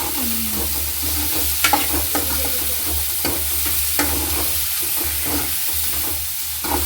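Okra curry with green chillies and onion fries in a pan with a steady sizzle. A utensil stirs it and scrapes against the pan in repeated close taps. The clip holds only cooking sounds, with no talking.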